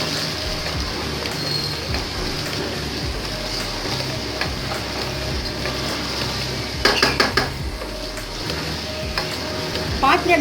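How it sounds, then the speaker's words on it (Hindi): Beef pieces fry in a pan for bhuna gosht, with a steady sizzle beneath frequent clinks and scrapes of a spoon against the pot, close and moderately loud. "पाँच मिनट तक इसको थोड़ा फ्राई कर लूँगी ताकि अच्छी तरह से ये गोश्त सारा भुन जाए"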